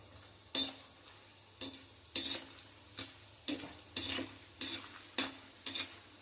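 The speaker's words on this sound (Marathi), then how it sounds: "कडकडीत तेलात जेव्हा आपण हिंग टाकतो ना तर तेव्हा तो छान फुलतो" Asafoetida frying in very hot oil, a faint low sizzle punctuated by about nine sharp, evenly spaced scraping strokes of a spoon in the pan, close and without voices.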